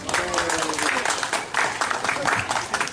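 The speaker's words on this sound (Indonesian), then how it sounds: "Tepuk tangan dulu nih Pak." Residents at a neighbourhood fire-response drill give a short burst of clapping, fairly quiet and mixed under a voice speaking over it.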